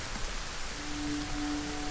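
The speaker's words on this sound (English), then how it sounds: "Oh, it's raining." Steady rain falling in the survival video game Solarpunk, a soft, even hiss with a faint tonal hum, continuous and moderately quiet.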